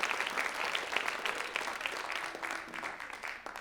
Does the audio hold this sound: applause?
yes